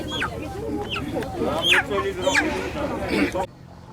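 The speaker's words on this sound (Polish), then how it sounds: "Biedne, umęczone ptaki." Chickens cluck and squawk in a village near Telavi in Kakheti, Georgia, with several nearby bird calls rising over a steady background babble of voices before the sound drops away near the end.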